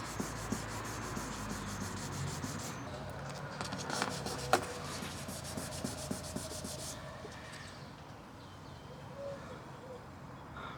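Paint gouges on a car bumper wet-sanded by hand with soaked 2000-grit wet and dry paper, a steady soft rubbing with quick strokes, fairly quiet and close, easing off toward the end.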